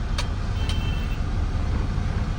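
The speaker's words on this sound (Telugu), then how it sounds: "ఇంటికి వెళ్ళే వాళ్ళు వీళ్ళు ఉంటారు కదా, మొత్తం ట్రాఫిక్ చూడండి" City road traffic on a busy Saturday, heard from inside a moving ambulance with its siren off: a steady, dense engine and road rumble with a couple of faint distant toots.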